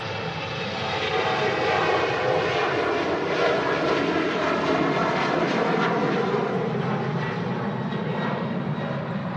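A TAP Air Portugal jet airliner takes off from Manchester Airport in strong crosswinds, its engines producing a loud, sustained roar that holds steady throughout without speech.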